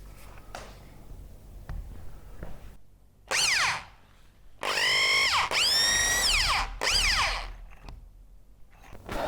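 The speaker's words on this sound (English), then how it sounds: "Let's drill some holes." A power drill whines in several bursts, its pitch rising as it spins up and dipping under load while boring into a surface, close by.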